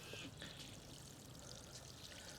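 Water poured gently from close range onto winter vegetable plants in a rooftop garden: a soft, continuous trickling splash, faint and steady throughout.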